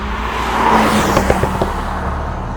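A Lotus Emira, a small, light sports car, drives past with a steady engine note rising and falling, fairly loud and close, with no talk over it.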